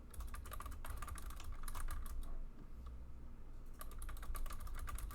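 Rapid clattering keystrokes on a computer keyboard come in two close bursts separated by a short quieter pause, crisp and near with no talking.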